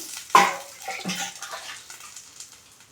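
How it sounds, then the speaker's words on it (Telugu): Water is poured from a bowl into a cooking pan for egg semiya upma, a short splashing pour with a quick burst followed by a few fading gurgles. "వాటర్ వేసుకున్నాం"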